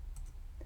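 Typing on a computer keyboard: a couple of quick, faint key clicks in a brief burst with no talk.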